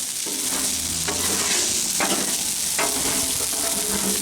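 Chicken fried rice sizzles steadily on a flat griddle while a spatula scrapes and pushes it around, with several sharp metallic scrapes over the constant frying hiss.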